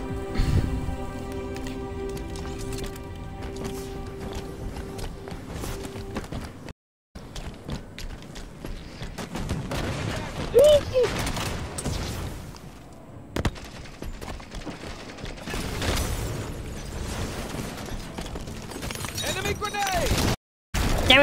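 Video game gunfire and grenade explosions crackle in bursts under ongoing voice and background noise, with brief gaps in the soundtrack.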